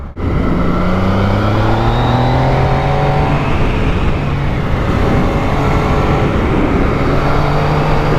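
A 2017 Yamaha MT-09 or Triumph Street Triple RS motorcycle engine revs hard and close. The pitch climbs steadily in a sustained, loud acceleration after an abrupt start.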